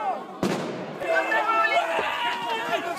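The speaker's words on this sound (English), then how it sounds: "A man lights a firecracker and throws it into a crowd." A firecracker goes off in a crowd of protesters on a Newcastle street, one sharp close bang followed by a second crack, with crowd noise and shouting continuing around it.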